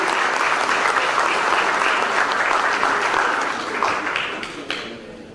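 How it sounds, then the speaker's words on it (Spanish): Audience applause at a forum on national port system modernization, a sustained, fairly loud burst of clapping that gradually thins and fades over about five seconds. "Pido un aplauso, por favor, para mi tocayo, García Ciudad."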